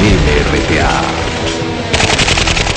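Gunfire at the Japanese embassy in Lima during the MRTA hostage crisis, heard as loud bursts of rapid shots with a denser crackling volley toward the end, no voices.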